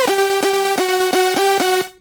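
A bright, buzzy synth lead for a progressive house track has a crossbeat wobble effect, sustaining a held tone under a steady pulsing chop of even repeated hits before fading out at the end.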